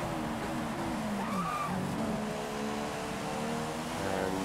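A Formula 1 car in F1 2015 at Silverstone runs off the track, its engine droning steadily with a short rising squeal of tires and a pitch swoop as it slides, no talking.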